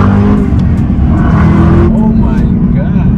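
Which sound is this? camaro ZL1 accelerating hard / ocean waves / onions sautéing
camaro ZL1 accelerating hard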